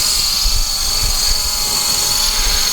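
A Hubsan X4 H501s GPS quadcopter drone hovers nearby with a steady high-pitched whine of small spinning propellers, a fairly quiet continuous buzz with no talking.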